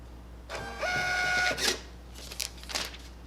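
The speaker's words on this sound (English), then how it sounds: "Here's a reprint of a receipt in Cash Register Express from PC America." An Epson TM-T88VI thermal receipt printer runs a fast reprint of a receipt for about a second, a steady whirring buzz, then a brief clack as it finishes, close and clear with no talk.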